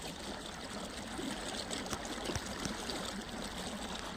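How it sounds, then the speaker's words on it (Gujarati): Steady hiss of a pump sprayer misting a milk and jaggery solution over a field of organic wheat, a continuous close wash of liquid spray with no voices. "અત્યારે આપણે આ ઓર્ગોનિક ઘઉંમાં દૂધને ગોળનો સ્પ્રે આલે છે"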